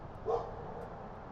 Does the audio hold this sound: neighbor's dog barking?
yes